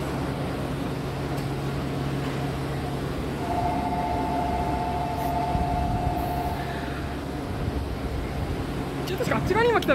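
Monorail 2000 series train arriving in Japan, a steady low rumble with a sustained tonal whine building gradually, under continuous nearby chatter.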